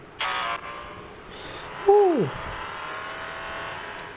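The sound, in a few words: car racing in video game Need for Speed No Limits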